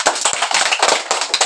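Children in a school classroom clap their hands in a quick, loud, close burst of many overlapping claps with a slightly uneven rhythm.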